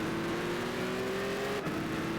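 A Dodge Viper race car in Gran Turismo 6 holds a steady, droning engine note at speed. A short break comes near the end before the whine picks up again.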